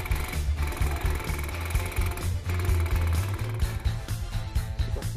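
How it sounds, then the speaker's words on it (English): A dot peen micro-percussion marking machine drives its tungsten carbide stylus in a rapid, steady hammering buzz, loud and continuous with a low pulsing drone throughout. "the tip of a tungsten carbide stylus generates the character by a succession of dots"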